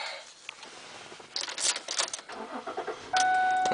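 A 2008 Ford Edge SEL SUV engine cranks and catches, preceded by faint clicks and rustling inside the cabin, then settles into a steady idle with a thin electronic chime tone over it.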